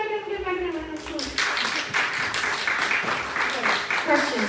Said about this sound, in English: Give Megan a round of applause.